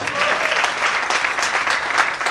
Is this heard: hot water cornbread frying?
no